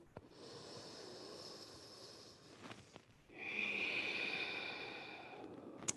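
During yoga practice, a slow, deep breath is audible up close: a long, airy inhale is followed after a pause by a fuller, louder exhale that trails off gently.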